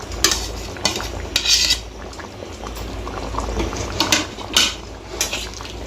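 Shrimp and pointed gourd curry bubbles in a pan, a close boiling gurgle with intermittent clinks and scrapes of a utensil against the metal pan, no voices.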